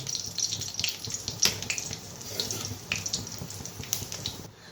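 Panch phoron spices with dried red chilli crackling in hot refined oil in a kadai, a close, uneven sizzle with sharp pops and spits over several seconds.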